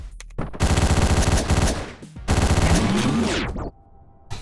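Rapid automatic rifle fire in a video game, two long sustained bursts close and loud, broken by a brief pause and followed by a mechanical reload-like sound.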